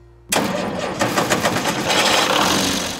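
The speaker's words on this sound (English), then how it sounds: "This tractor was state-of-the-art in 1960." A 1960 tractor engine starts and runs, a sudden loud catch followed by a steady, rough mid-pitched rumble with a rhythmic chugging pulse, close and alone.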